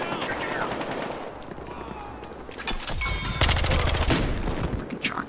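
Shotgun blasts ring out in a Battlefield Hardline match, a burst of loud, sharp reports clustered near the middle and continuing to the end over a busy game backdrop.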